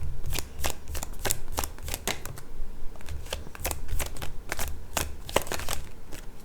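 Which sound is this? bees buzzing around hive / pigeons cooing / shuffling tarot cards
shuffling tarot cards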